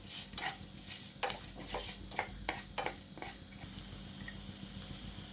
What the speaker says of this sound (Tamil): பாருங்கள், நல்லா பொரியுது, நல்லா வாசனை வருது, மல்லி சோம்பு வாசனை